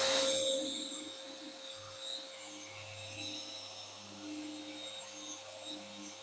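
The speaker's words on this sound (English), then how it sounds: "that was a really quick pass with the 50 on the fine sanding mode" A sander fitted with 50-grit paper, running in fine sanding mode on white oak: a loud burst at the start that quickly settles into a steady electric motor hum with a thin whine over it.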